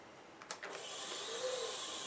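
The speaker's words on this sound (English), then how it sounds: "So why not just start out by getting as much drilled as I can" A drill boring into a cherry plum wood bowl-vase spinning on a wood lathe, with a few sharp scraping clicks at the start giving way to a steady, whining motor hum.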